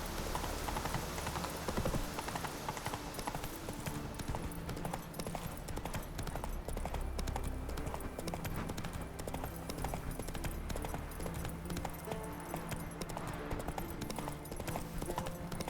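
Horse hooves clip-clopping in The Witcher 3: Wild Hunt on PS5, a steady, continuous trot heard up close over dense game ambience for the whole stretch.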